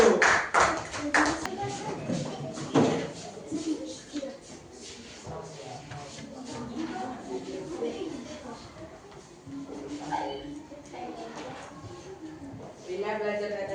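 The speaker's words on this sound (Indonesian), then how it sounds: "kalau gitu kemudian tepuk tangan dulu mereka" A classroom of students claps for a student group, a burst of close, brisk clapping at the start that thins into scattered taps and shuffling, with voices talking underneath.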